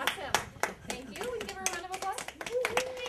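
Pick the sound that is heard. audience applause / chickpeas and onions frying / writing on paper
audience applause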